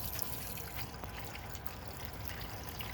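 Water from a hose running over freshly tumbled rocks and quartzite, a steady close splashing trickle that continues without a break and with no talking.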